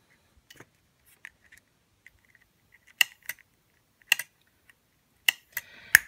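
A KitchenAid dishwasher being powered on for a test gives sparse, sharp clicks, single and in quick pairs, close and otherwise quiet.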